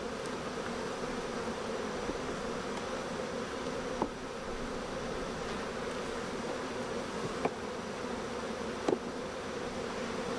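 Honey bees in an open queenless hive with a suspected laying worker drone steadily in a dense, even hum close by, with a few faint knocks and clicks.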